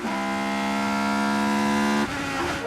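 Formula 3000 race cars at a 2002 race in France scream past at full throttle, a loud, steady high-pitched engine drone with layered harmonic whine that drops in pitch near the end as the cars pull away.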